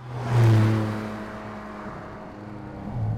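Porsche 718 Cayman GT4 RS engine, a muffled, low droning hum that swells briefly then settles into a steady murmur, fairly quiet and with no voices.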